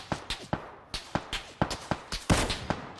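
Gunfire from PUBG Mobile: roughly a dozen sharp, loud shots in a quick, uneven series, each with a short crack and brief tail, with no talking over them.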